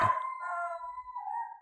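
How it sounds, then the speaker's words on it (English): A dog howls and bays nearby, a sustained tonal cry that rises and wavers, with no talk over it. "That is a dog barking."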